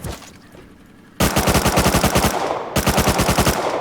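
Rapid automatic gunfire in the survival game Rust, two loud bursts of fast, evenly spaced shots close by, the first longer and the second following after a short gap.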